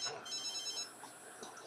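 A phone in The Sims 3 rings with a bright, warbling electronic trill in quick repeated pulses, moderately loud, fading into quiet background murmur afterward.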